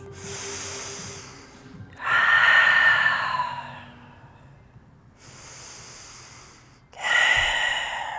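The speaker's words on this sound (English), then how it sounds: "I want you to really focus on a long, smooth, not jagged breath." Slow, long breaths during a lying-down hip-opening yoga stretch, each inhale and exhale drawn out and smooth, heard close and clear in alternating waves with no talking.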